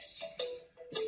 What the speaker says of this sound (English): one of these phones is ringing